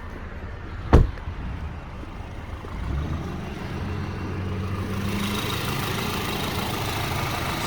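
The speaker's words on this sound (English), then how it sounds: "So just here is the 2-liter 4-cylinder turbocharged motor." A 2015 Audi allroad Quattro's 2-liter turbocharged four-cylinder engine idles with a smooth, even hum, preceded by a sharp single thump near the start.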